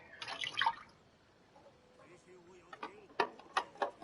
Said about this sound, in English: I'm just rinsing out something in the sink.